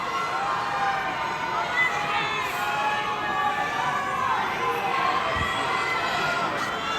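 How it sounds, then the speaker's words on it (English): A concert audience at a live show at a casino venue yells and cheers in a dense, continuous roar of overlapping voices, steady and loud throughout with scattered shouts rising above the crowd. "It just sounds like a lot of yelling."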